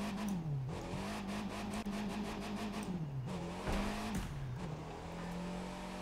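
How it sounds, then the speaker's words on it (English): A Fiat 500 built as a monster truck in The Crew 2 racing game drones with a steady engine hum, rising and dipping as it revs and shifts, continuous and close throughout with no talking. "Look how fast this thing is. It's a monster truck."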